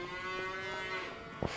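Holstein cows moo in a farming simulator game, one long sustained low moo with a tonal drone over a faint background, ending in a short click.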